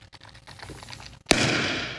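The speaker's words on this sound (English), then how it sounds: "Okay, so I'm going to add the firecracker." A firecracker goes off with a sudden loud, close bang that gives way to a sustained crackling burst, after a stretch of quiet rustling.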